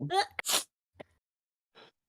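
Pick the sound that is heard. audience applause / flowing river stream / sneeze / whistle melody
sneeze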